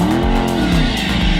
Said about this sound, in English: we're doing a smoky burnout right here